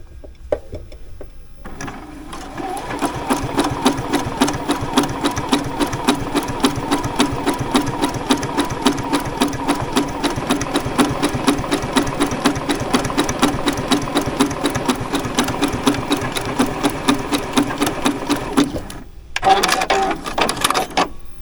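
A new sewing machine runs a test stitch, its needle pounding in a fast, steady rhythm for most of the stretch, then pausing briefly before a short final burst.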